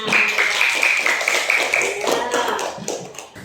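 Students in a classroom clap their hands together in a quick, rhythmic burst of close, sharp claps, with voices mixed in.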